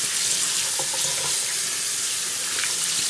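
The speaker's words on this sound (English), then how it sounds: "I want to give him a good wash all over, inside and out." Tap water runs steadily into a kitchen sink while a whole chicken is washed, a continuous close hiss with faint splashes and handling noises.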